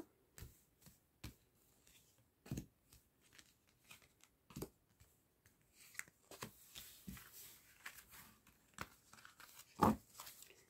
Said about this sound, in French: je vais prendre 3 cartes